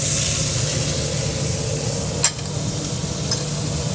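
Salmon searing in a hot pan sizzles with a steady, loud hiss throughout, broken by two brief scraping clicks.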